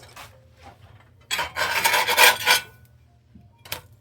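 A spatula rasps across a very hot pan, scraping off a stuck corn tortilla, with one loud scrape lasting over a second, then a short faint scrape after a pause.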